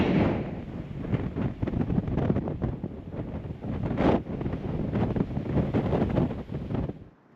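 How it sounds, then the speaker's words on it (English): Strong gusting wind buffets the microphone at a campsite tent with a loud, rumbling roar that surges and eases before dropping away at the end. "wow, it's ridiculously windy right now"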